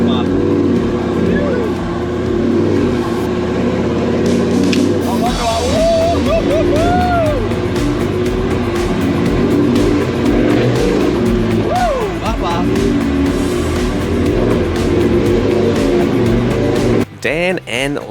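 An 8-speed Crocodile off-road vehicle grinds up a steep hill on the Cape York track, its engine droning steadily and rising and falling under frequent talk, with a clatter near the end.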